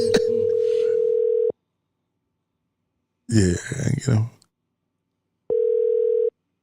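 A telephone ringback tone sounds while calling a home phone, a steady, clean electronic tone in two long bursts separated by silence, with someone speaking briefly between them.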